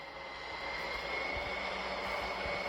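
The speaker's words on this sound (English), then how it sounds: "did not realize the plane took off" Airplane taking off in a flight simulator game, a steady rising jet engine roar with a sustained whine, loud and continuous throughout with no talking.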